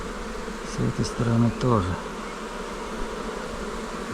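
Bees hum around an open hive after two warm days, a continuous droning buzz with a nearer insect passing briefly, while someone speaks over it close by.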